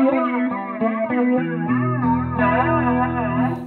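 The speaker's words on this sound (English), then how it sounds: "Then there's regeneration, which is the normal flanger sound." Guitar played through a PRS flanger pedal with regeneration engaged, a run of plucked notes then a sustained chord, all swept by a sweeping jet-like comb-filter whoosh, loud and close.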